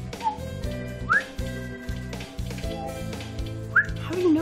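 A voice whistles short, rising bird-like chirps a few times, imitating a bird call, over a steady background of music or tonal hum.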